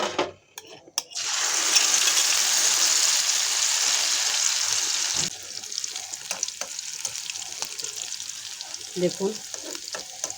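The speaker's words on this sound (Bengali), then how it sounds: "আমি এইটাকে এখন ভাজি করব" Mustard flower fritters sizzle loudly in hot oil in a pan, a dense steady crackle that drops to a softer fry partway through, with occasional stirring clinks and a brief spoken word.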